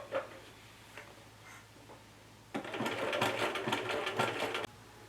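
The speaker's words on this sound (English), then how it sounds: "we put our sewing machine in the buttonhole position" A domestic sewing machine set to its buttonhole setting stitches in a steady, rapid mechanical clatter for about two seconds, close and loud, after a few faint ticks and clicks.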